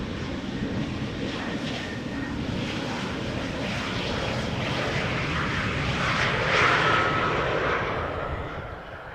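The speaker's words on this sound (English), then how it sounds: "This is KLM Flight 1188 arriving from Bergen, Embraer 190." A KLM Embraer 190 jet arriving at Amsterdam Schiphol from Bergen roars steadily, swelling louder near the end as it passes close, then easing off; no voices are heard.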